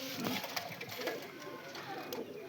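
Red Chinese pigeons coo softly in a loft amid faint background noise, and someone talks over them.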